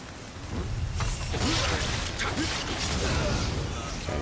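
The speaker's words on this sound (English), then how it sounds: "Oh, that rain sounds so pretty." Steady rain falls in the video game Nioh, a dense, close hiss of drops with scattered clinks and soft game effects layered over it throughout.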